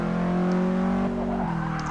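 Subaru WRX engine in the Forza Motorsport 6 racing game, a steady high rev held for about a second before the pitch drops and settles, loud and close with no talking.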